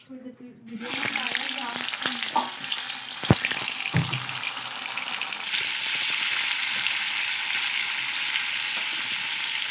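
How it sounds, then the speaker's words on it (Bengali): Paneer fries in a wok with a steady, loud sizzle and hiss. A few sharp clinks and stirring sounds come early, then the frying settles into an even, crackling spatter. "পনির একটু ভেজে নেব লাল লাল করে। এটা হলো ডিবির পনির, ফ্রাই করা হচ্ছে।"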